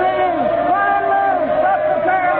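A crowd yelling in the street in an old radio drama, a dense mass of raised voices and shouts with rising and falling calls, steady and fairly loud throughout.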